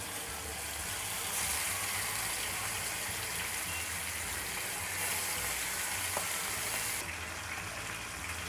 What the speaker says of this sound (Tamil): இப்போது எண்ணெய் காஞ்ச பிறகு மீனை ஒவ்வொன்றா அதில் சேர்த்துக்கலாங்க.